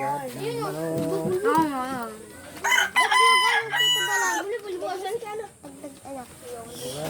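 A rooster crows loudly nearby, with clucking chickens and people talking throughout.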